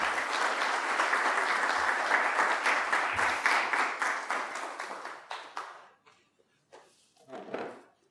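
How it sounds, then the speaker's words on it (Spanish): An audience at a political talk gives a burst of steady, loud applause that tapers off after about five seconds, followed by a few scattered claps and a brief final flurry. "Un aplauso para Vane."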